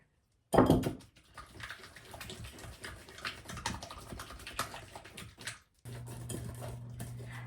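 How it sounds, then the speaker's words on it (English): Buffalo chicken dip is whisked by hand in a bowl, a rapid irregular clatter of metal whisk against the dish, close and moderately loud, ending in a brief pause. "So I'm gonna whisk this up and get it all mixed together"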